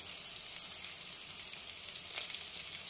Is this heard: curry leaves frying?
yes